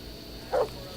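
A single short dog bark in the video game Kingdom Come: Deliverance 2, one brief close yelp over a quiet background.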